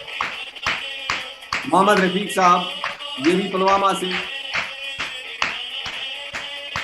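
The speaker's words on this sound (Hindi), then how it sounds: "किसी की तालियां रुकनी नहीं चाहिए सर।" An audience at an award celebration claps for honoured achievers with scattered, uneven handclaps that run throughout while a man announces over the microphone.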